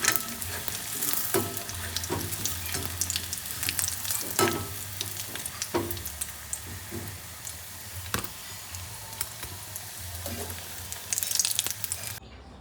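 Food fries in a pan at home, a continuous loud sizzle with crackling pops and occasional stirring clatter running steadily throughout, no talk.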